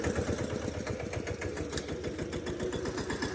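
A tractor engine runs steadily nearby, a low, rapid chugging rhythm that holds constant throughout with no voices.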